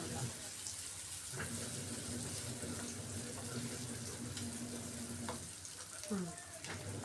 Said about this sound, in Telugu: మనం ఇది అది ఎగ్గుతో బీట్ చేసుకున్నది దీని మీద పోసేసి ఇలా స్ప్రెడ్ చేసి